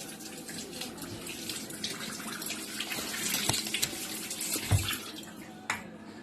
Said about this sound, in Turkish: Ben fırçayı hemen yıkayacağım.